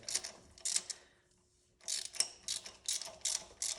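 A ratchet tightens a spark plug on a Nissan in quick bursts of close, crisp clicking, with a short pause between runs of strokes.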